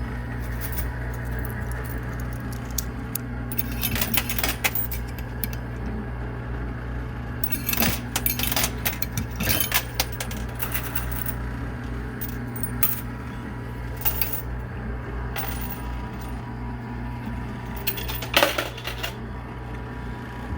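Coins clatter and drop in a coin pusher machine, scattered metallic patters and small clinks over a constant arcade hum, with no one talking.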